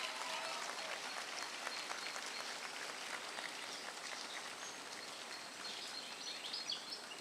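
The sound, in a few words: audience applause for dancers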